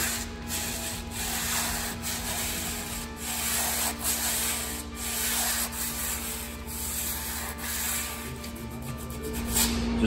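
A palm sander connected to a vacuum works over a painted wall being prepared for a faux concrete finish. It gives a steady, close, continuous abrasive rubbing whir with a constant motor hum underneath and no talking.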